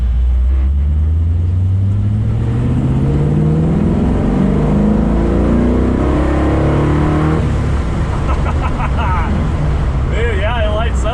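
A 1965 Chevy Nova making 450 hp accelerates hard from a stop, its engine pitch climbing loud and close through the gears, with excited voices talking over it toward the end.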